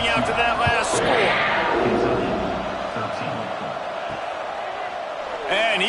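A stadium crowd at an LSU football game buzzes steadily after a score, a broad sustained roar with a commentator talking over it.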